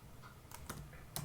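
Typing on a computer keyboard gives a few quiet, close key clicks in an uneven rhythm.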